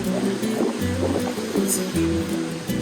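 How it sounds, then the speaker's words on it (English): Ocean surf and wind roll in at a Mexican coastal resort ahead of an incoming storm. The wash of waves is steady and fairly loud, with low gusty rumbles rising and falling across a few seconds and no talk. "there's a storm coming in south of us, and therefore the winds have really picked up, the waves have picked up"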